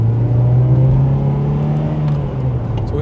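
A Toyota MR2 Mk2 engine hums at a steady, fairly loud pitch, holding its revs without much rise or fall and easing off slightly toward the end.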